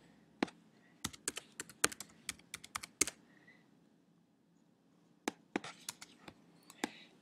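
Light, quick keystrokes on a computer keyboard entering login details, two short bursts of close, fairly quiet typing separated by a pause.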